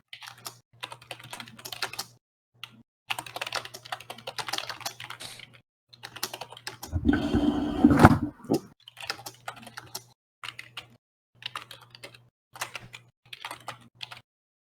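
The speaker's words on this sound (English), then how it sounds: "I didn't mute the mic before typing that one out." Computer keyboard typing picked up by an unmuted mic, close and clicky, coming in quick bursts separated by short pauses, with a louder scrape or thump in the middle and a faint low hum under the keystrokes.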